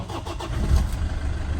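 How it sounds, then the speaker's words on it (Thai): A car engine cranks and catches, settling into a steady low idle with continuous rumble throughout, close and moderately loud. "ติดเครื่องให้ฟังเสียงด้วย"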